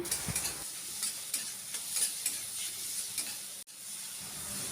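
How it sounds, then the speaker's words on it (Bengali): Sliced tomatoes sprinkled with salt are stirred in a frying pan. A steady hiss of frying runs under repeated light spatula scrapes and taps, close up and fairly quiet, with one sharp knock near the end. "আবার একটু ভালো করে নেড়ে নিচ্ছি"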